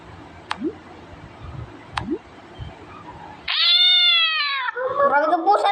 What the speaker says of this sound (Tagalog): Grabe ka pusa na to.